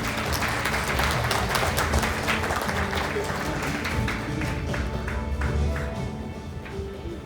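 Steady applause from a crowd at a Bank of Korea symposium, many hands clapping together in a dense, continuous wash of sound that fades slightly toward the end.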